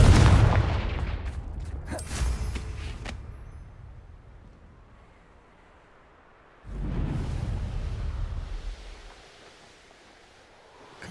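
A Confringo fire spell in Hogwarts Legacy bursts into a loud, booming explosion with crackling debris that fades away, then a second roaring blast rolls in and slowly dies down, with no talking.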